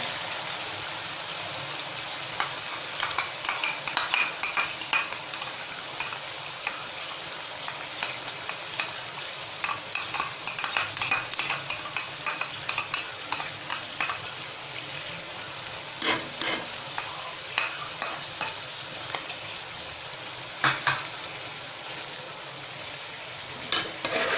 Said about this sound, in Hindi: यहाँ पे इसको अच्छी तरह से मिक्स कर लेंगे।